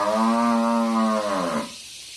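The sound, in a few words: goats and cattle bleating and mooing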